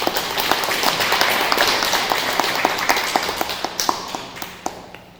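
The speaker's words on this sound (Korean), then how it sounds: "우리 회장님 힘내시라고 좀 박수 좀 부탁드리겠습니다" A crowd at a meeting and general report assembly applauds steadily, a dense wash of claps with a few sharper taps standing out, fading slightly toward the end.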